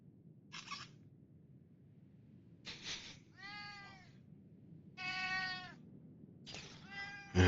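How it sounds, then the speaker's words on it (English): A cat meows close by, one short call after another in a sparse, irregular run of about four, with quick clicky bursts between them over a quiet, low hum. "it might sound like there's a cat"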